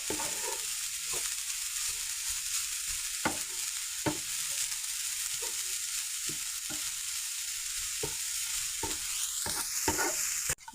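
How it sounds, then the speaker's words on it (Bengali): Grated carrot sizzles steadily in hot ghee for carrot halwa, with a constant close frying hiss broken by regular scraping knocks of a spoon stirring the pan. "একটু ভাজা করে ঝরঝরা করে নিব"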